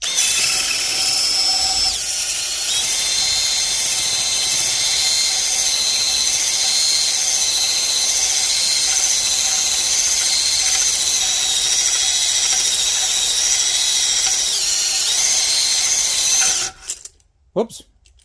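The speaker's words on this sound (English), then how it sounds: "this is not the highest quality honing tool, but for this job, it should work" A cylinder honing tool spins inside a rusted cylinder of a Vanguard 16HP engine, a loud continuous drill whine with a steady grinding scrape that runs for about sixteen seconds and then stops abruptly, leaving a few knocks.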